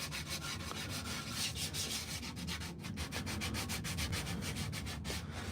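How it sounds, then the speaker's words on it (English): Close, steady back-and-forth sanding on a hand-carved wooden spoon, rhythmic rasping strokes repeating throughout with no talking. "do some sanding on here like this"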